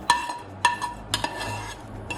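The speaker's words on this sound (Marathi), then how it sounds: "याला छान मिक्स करून एक उकळ घेऊया" A spoon clinks against a metal pot a few times as vermicelli kheer with ghee-roasted dry fruits is stirred, over a faint low simmer; no talking.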